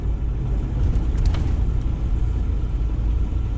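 Steady, close rumble of car traffic on a busy street, with engines droning continuously at an even level and no talking.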